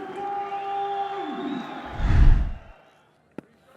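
Crowd cheering at a Test cricket match in Rawalpindi between Pakistan and South Africa, a swelling roar that peaks and fades within a second, preceded by a sustained murmur and a brief thud afterward.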